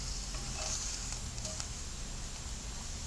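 Food sizzling in a hot pan with a little melted butter right after being flipped, a steady close crackling hiss that runs unbroken throughout with no talking.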